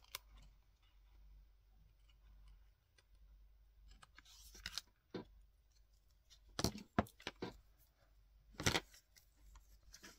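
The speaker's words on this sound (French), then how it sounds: "On vient couper l'excédent." Scissors snip off excess paper during scrapbooking, with a few sharp, close cuts and rustling handling noises scattered across a quiet background.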